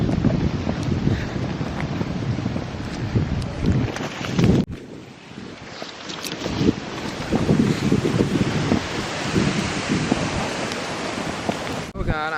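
Strong, gusty hurricane wind from Hurricane Matthew in Orlando roars close to the microphone, buffeting it in loud surges with a short drop in the middle, while a person talks intermittently.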